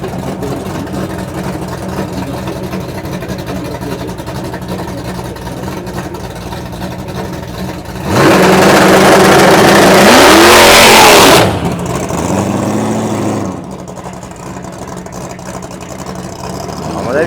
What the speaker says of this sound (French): il a fait le burn avec le launch control